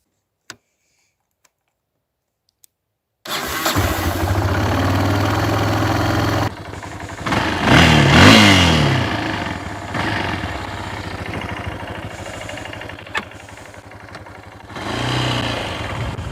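After a few faint clicks, a Yamaha TT 600 E enduro motorcycle engine fires up suddenly and idles loudly, then revs up and down in short bursts before settling back.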